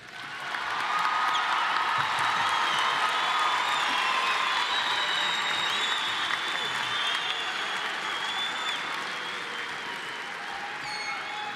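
Commencement audience applauding graduates in a large hall, a broad sustained wash of clapping with scattered whoops and cheers, steady and slightly distant, then gradually thinning toward the end.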